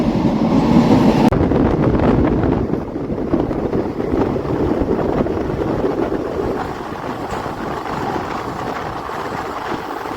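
The 16094 Gomti Sagar Express rolls through Lucknow's Charbagh-area central station at dawn, a loud steady rumble of wagons and wheels with faint rhythmic clatter, dropping slightly in level partway through, with wind buffeting the microphone.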